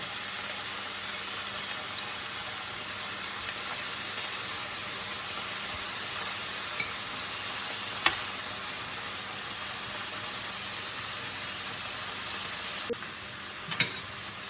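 Pork pieces fry and brown in a pan with a steady, moderate sizzle and hiss, broken by a few sharp clicks as pieces are turned.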